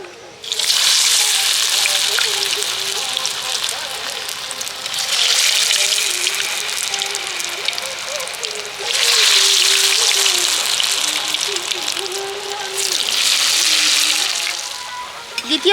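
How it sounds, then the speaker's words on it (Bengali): Semolina and potato snacks sizzle steadily in hot oil, the loud, close frying hiss swelling and easing in several long waves. "বাকিগুলো আমি একইভাবে ভেজে নেব"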